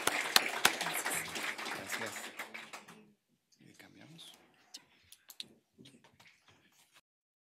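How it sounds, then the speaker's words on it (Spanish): An audience at a public policy panel on the green economy claps loudly and densely for about three seconds, then the applause fades to a few scattered, isolated claps. "acompáñenme a darle un aplauso a nuestras panelistas"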